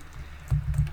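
Typing on a computer keyboard while entering a product listing description, a quick run of close, soft key clicks in an uneven rhythm with no voices.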